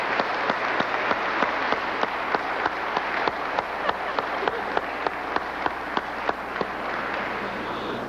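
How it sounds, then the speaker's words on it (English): Audience applause for presenters at a 1996 Chicago LGBT Hall of Fame induction ceremony, a steady, moderately loud wash of clapping with a few sharper individual claps standing out throughout. "can we have another round of applause for our presenters"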